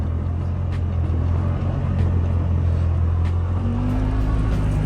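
A Yamaha Wolverine X4 side-by-side drives through deep snow with a steady, loud engine rumble and low drone that rises slightly in pitch toward the end, with no talk.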